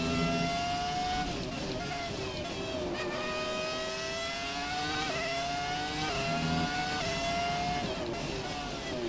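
Formula 1 car engine from F1 2017 screaming as it accelerates on the power out of a low-speed corner, pitch climbing in repeated gear-shift steps, loud and continuous throughout.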